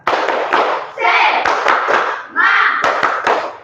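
A group performs the tepuk semangat rhythmic clapping chant, with sharp hand claps in a steady pattern alongside loud chanting voices throughout, close and energetic.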